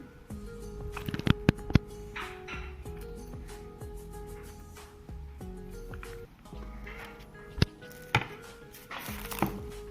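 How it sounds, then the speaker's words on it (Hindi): Knife chopping capsicum, carrot, coriander and onion on a board, a series of sharp taps, some in quick runs and others isolated, over faint kitchen background noise. "अब इसमें ये देखिए हमने शिमला मिर्च है, गाजर है और धनिया और प्याज है, वो काट लें।"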